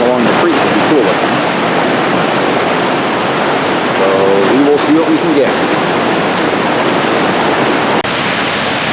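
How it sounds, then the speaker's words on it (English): National Creek Falls in Umpqua National Forest pours as a loud, steady roar of rushing water close by, filling the whole clip, while a person speaks briefly over it. "We're still at National Creek Falls."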